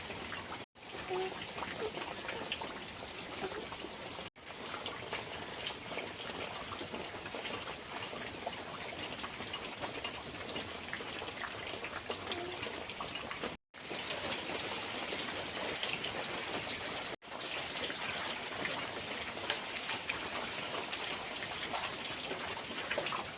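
Steady rain pours down in an even, hissing wash, broken by a few brief dropouts, with a faint voice now and then underneath.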